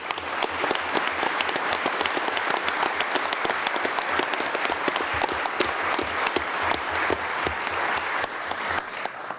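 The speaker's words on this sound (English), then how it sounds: "So I'd like to give all these coaches and parents a round of applause." Applause at a county board of commissioners meeting for coaches and parents, with individual claps distinct and crisp amid the steady, lively patter of a moderate crowd, continuing without pause.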